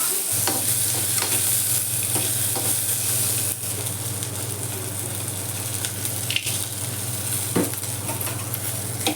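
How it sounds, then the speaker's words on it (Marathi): Onion and coconut roasting in a pan for a spicy masala, a loud steady frying hiss with a constant hum beneath and occasional stirring scrapes. "कांदा भाजून घेते कांदा खोबरं"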